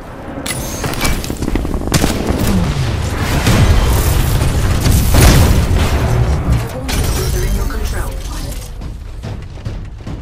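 A Titan drops from orbit and slams down in Titanfall 2, with a heavy boom and mechanical clanks and creaks amid ongoing battle noise and distant gunfire, loud and dense for the whole stretch.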